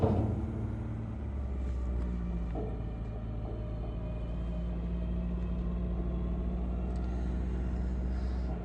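A yellow DIECI telehandler drives across a farm yard, its diesel engine a steady, low, droning rumble with a faint mechanical whine on top, close and constant throughout, with no talking.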